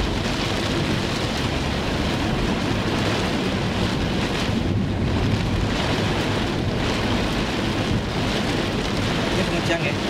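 Heavy tropical rain pours down in a dense, steady hiss that stays loud and constant throughout, with no clear pauses or individual drops standing out.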